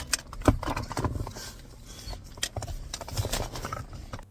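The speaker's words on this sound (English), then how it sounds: "Someone was walking directly up to her car." Irregular footsteps approaching a car thud on a hard surface at close range, several steps in an uneven rhythm with no talking.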